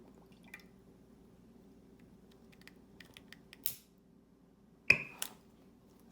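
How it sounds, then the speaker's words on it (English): Two sharp pops of hydrogen gas igniting, the second louder with a brief fizzing tail, among scattered small clicks and quiet background hiss. "that noise was us popping the hydrogen"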